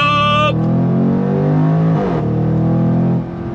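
A 2025 Jaguar F-Pace SVR 575 Edition engine roars loudly under throttle, its harmonic pitch climbing then dropping through a gear change before settling, with a voice briefly audible at the start.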